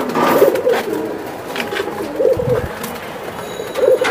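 Silver Giribaz pigeons coo in repeated soft, throaty bursts, three clear rounds spaced across the moment, close by over a busy background hum.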